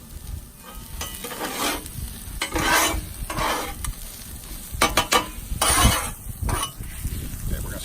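Onions dropped onto an oiled Blackstone griddle sizzle and crackle loudly, with scraping and stirring bursts from a spatula, the hiss rising and falling over several seconds; a person talks in the background.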